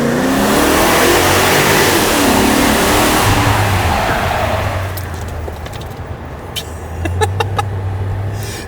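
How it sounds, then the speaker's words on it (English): A bespoke Mercedes-Benz R129 SL60 AMG revs its engine in a tunnel with the windows down, a loud sustained roar for several seconds that eases off, then short throttle blips near the end. "So the engine noise makes me laugh"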